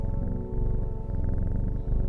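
A cat purrs when petted in the Strange Horticulture video game, a close, loud, continuous rhythmic rumble running alone throughout.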